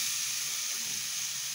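Grated coconut hits a hot wok for bhapa pitha, giving a steady, bright sizzling hiss that stays even and close throughout.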